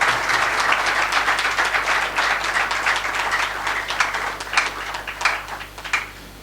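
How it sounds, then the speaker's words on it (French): Applause from an audience welcoming the newly elected governor of Mai-Ndombe province, a dense patter of clapping that swells and then thins into scattered louder claps toward the end. "je vous prie de bien vouloir applaudir abondamment"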